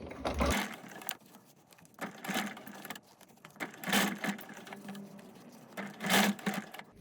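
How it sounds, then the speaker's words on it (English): A sewing machine stitches piping around a bend in quiet, intermittent bursts of rapid mechanical whirring, separated by short pauses as the fabric is eased along. "I'm just going to sew all the way down to my bend, ease this around the bend, and then continue across the bottom"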